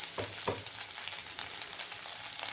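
Ginger garlic paste fries in a pan with a soft, steady sizzle and crackle, quiet and close, broken by a couple of brief scraping stirs near the start.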